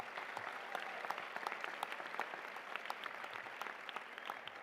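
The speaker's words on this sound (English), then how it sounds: "Yeah, you can applaud that." An audience at a college commencement ceremony applauds with steady, dense clapping from a large crowd, heard faintly and at a distance throughout.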